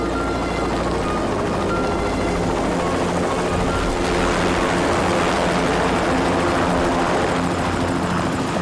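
A helicopter flies nearby, its rotor producing a continuous loud, throbbing whir that intensifies slightly midway and stays unbroken throughout.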